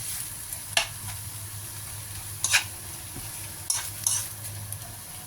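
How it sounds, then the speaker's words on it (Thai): Beef scraps are stir-fried in a pan for a Thai beef and eggplant curry, with a constant sizzle under several sharp scraping and clattering strokes of a utensil against the pan, close and alone. "อันนี้เป็นเศษเนื้อนะคะเศษเนื้อ แต่ก็ไปคั่วเข้าไป"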